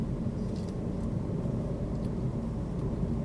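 A car on a road during a driving lesson gives off a steady low engine rumble and road noise, moderately quiet and constant from inside the cabin, with no talking.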